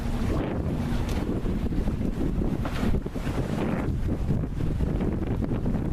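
Sailboat moving on a choppy lake in about 10 knots of wind, a loud continuous rush of wind buffeting the microphone mixed with water splashing against the hull, steady throughout.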